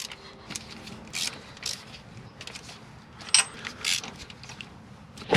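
Spark plugs go back into a 1972 Ford F-250 engine, with metallic clinks, ratcheting and tool rattles in short irregular bursts, close and moderately loud, with no talking.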